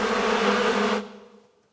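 Recorded swarm of bees, a loud dense buzzing drone that cuts off abruptly after about a second and fades to a faint hum.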